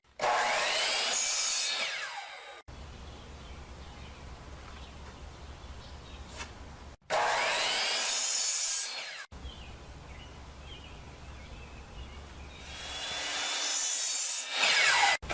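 Small pieces of wood for a model railroad lift bridge are hand-sawn up close. Three bursts of rapid, scratchy back-and-forth strokes are separated by quieter gaps filled with a low hum.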